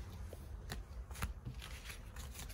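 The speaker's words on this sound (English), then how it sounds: "I'm gonna shuffle some more cards here" Tarot cards shuffled by hand in a few quick riffling bursts, close and crisp, with no talking over them.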